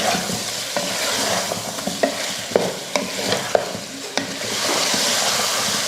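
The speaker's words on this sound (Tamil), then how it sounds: "ஒரு 4 நிமிஷம் 5 நிமிஷத்துக்கு உருளைக்கிழங்கையும் சிக்கனையும் இது போல் வதக்கி விட்டுக்கோங்க." Chicken and potato pieces sautéed with salt in a pan, a busy close frying hiss broken by repeated sharp spatula taps and scrapes from steady stirring.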